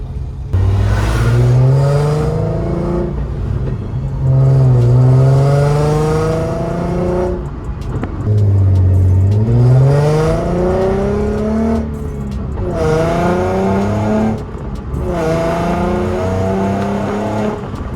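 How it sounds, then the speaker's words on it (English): A Nissan G35 drives with engine pitch rising and falling through repeated gear changes, a faint differential whine under the steady road noise, most noticeable on deceleration. "you can hear a slight sound of the differential"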